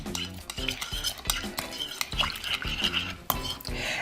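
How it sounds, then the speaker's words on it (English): A spoon stirs cottage cheese, dill, onion, egg and flour together in a bowl for bread dough, producing rhythmic scraping and clinking strokes that repeat several times close to the microphone. "I'm going to stir it."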